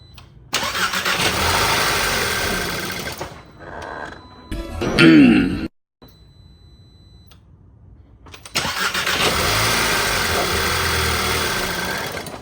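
A VW MK5 with a cold air intake cranks and fires up, settling into a steady idle hum, then shuts off; after a pause the engine is started again and idles evenly, with brief throat-clearing between.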